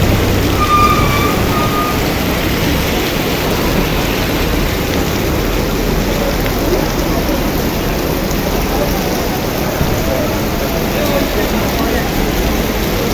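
Heavy rain pours steadily onto an open roadside area, a dense continuous wash of noise that never lets up, with faint traffic beneath it.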